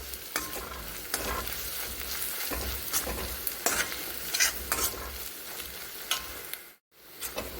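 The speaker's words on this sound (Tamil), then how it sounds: "இப்போ நல்லா அந்த இஞ்சி பூண்டு பேஸ்ட்டுடைய அந்த பச்சை வாசனை போகிற அளவுக்கு நல்லா வதக்கி விட்டாச்சு" Onions and ginger-garlic paste sauté in a pan, a steady sizzle broken by repeated scraping stirs of a spatula, close and clear, pausing briefly near the end.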